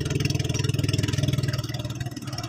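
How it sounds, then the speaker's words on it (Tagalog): A fishing boat's engine pounds loudly at close range with a steady, rapid thumping beat and a rattling edge, easing slightly near the end of the short stretch. "Malakas kasi ang makina."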